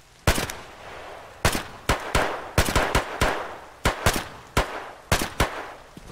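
Enemy gunfire in the video game Escape From Tarkov, a series of about a dozen loud, sharp single shots at an irregular pace, each ringing out with a short echo.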